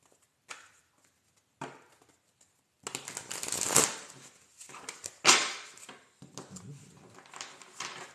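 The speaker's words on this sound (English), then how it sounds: "Let me shuffle one more time." Tarot cards are shuffled in short, crisp riffling bursts and soft slaps, close and intermittent with quiet gaps between them.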